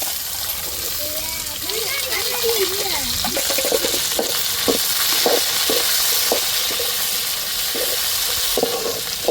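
Steady sizzling and hissing of okra frying in a pan with curry leaves, with repeated scraping stirs and a voice speaking over it.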